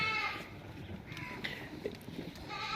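Goats bleating on a farm at morning feeding time, several wavering bleats rising over a rustling, noisy background, fairly close.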